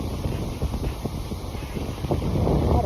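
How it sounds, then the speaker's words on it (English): Gusty wind buffeting a microphone outdoors during a walk, a steady low rumble with irregular bursts that swell louder toward the end, no speech. "It's really windy."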